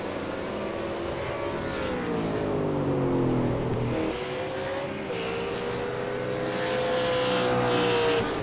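A Ford Falcon V8 Supercar from the TTR team drives a lap at Interlagos in a racing game, its engine a loud continuous roar with pitch sweeping down and back up through gear changes and corners.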